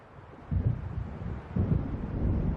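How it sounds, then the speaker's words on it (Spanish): Thunder from an approaching storm near the water in Alan Wake Remastered: two deep, rolling rumbles about a second apart over a steady windy background, moderately distant and unaccompanied by speech. "Parece que va a haber tormenta."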